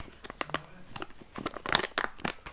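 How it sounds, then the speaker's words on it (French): A two-point airsoft sling being unwrapped from its packaging gives irregular close crinkling and tearing bursts of plastic, with a few sharper rips near the end. "Je vais vous la déballer pour que vous la voyez"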